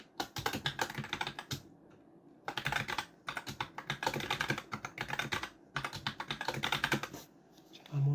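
Someone types a wallet password on a computer keyboard: quiet, close keystrokes come in quick bursts separated by short silent pauses.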